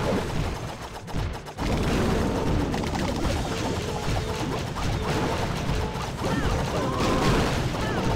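Troops attacking a base in Clash of Clans, with maxed miners and hog riders at Town Hall 11, make a dense, continuous battle din of crashes, bangs and gunfire-like bursts throughout.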